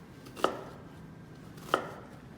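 A knife chops through an onion on a board for pico de gallo, giving two crisp, close cuts spaced about a second apart with quiet between them.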